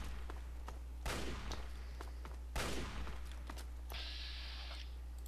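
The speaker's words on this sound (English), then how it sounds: "I just shot him point blank with a combat shotgun in the head." Two blasts from a combat shotgun in the video game Fallout 3 ring out a second or so apart, each a sharp loud boom with a short decaying tail over a steady game hum, followed by a brief mechanical tone.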